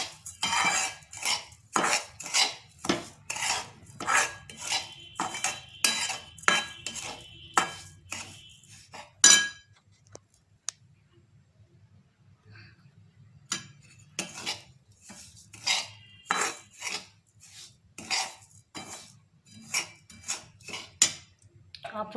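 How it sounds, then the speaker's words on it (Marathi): A spoon scrapes and clinks steadily against a metal pan as sugar is stirred into roasted semolina for shira, in rapid rhythmic strokes that pause briefly midway and then resume at a slower, more scattered pace. "साखर चांगली मिक्स करून घेऊ।"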